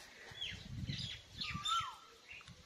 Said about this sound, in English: But most of the lovely is sound of the cuckoo bird.